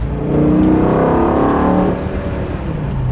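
A BMW M5 engine's intake roars under acceleration, a loud rising growl heard from inside the moving car, then easing slightly.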